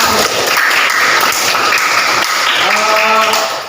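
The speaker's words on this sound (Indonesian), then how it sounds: "Terima kasih tepuk tangan." An eighth-grade class claps together for their teacher, a brisk, continuous patter of many hands that carries on evenly, with faint voices mixed in toward the end.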